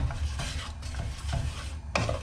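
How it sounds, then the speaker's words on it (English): Spiced onions frying in oil in a pan are stirred around, giving a steady sizzle under repeated scraping strokes of the spoon against the pan, close and even throughout. "What you want to do is move them all around, get the oil and spice"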